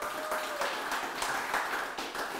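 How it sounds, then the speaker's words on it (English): Audience at a poetry slam in Prescott applauding the poets, a steady close wash of clapping with rhythmic bursts, fairly quiet overall. "round of applause for poets."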